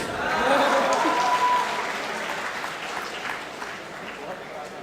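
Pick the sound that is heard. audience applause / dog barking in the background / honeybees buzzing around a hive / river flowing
audience applause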